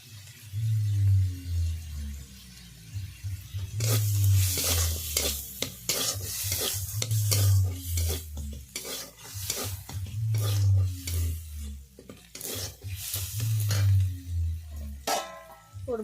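A fish head fries in a pan with onion paste and chili powder, sizzling steadily while a utensil scrapes and stirs in regular repeated strokes, close and fairly loud.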